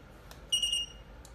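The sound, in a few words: battery tester beeping after button pressed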